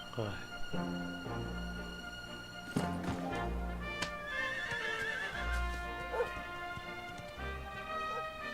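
A horse whinnies in a long, high call in the video game Dragon Quest XI, with hoofbeats and other ringing game-like sounds layered around it.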